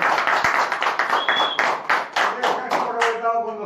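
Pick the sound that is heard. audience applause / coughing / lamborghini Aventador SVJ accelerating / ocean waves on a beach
audience applause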